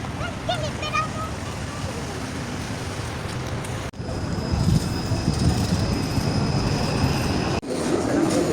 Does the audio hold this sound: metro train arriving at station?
yes